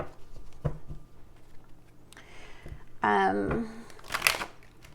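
Llewellyn tarot cards are shuffled quietly by hand, soft riffling bursts under a voice, with a brighter sharp card sound near the end.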